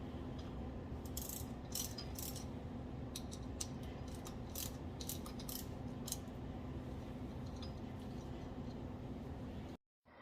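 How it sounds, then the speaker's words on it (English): Shaft puller (fan blade puller) working a stuck blower motor off its shaft, a steady series of sharp metallic ratcheting clicks over a constant low mechanical hum, close and fairly quiet. "what we're using right now is a shaft puller or fan blade puller"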